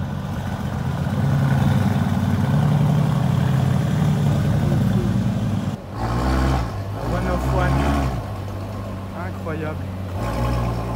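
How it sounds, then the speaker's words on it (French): Supercars pull away from a car meet, engines idling with a deep rumble before sharp revving bursts erupt nearby, while someone talks excitedly over the noise. "Donc là c'est le moment des départs. Regardez toutes les voitures qui vont partir."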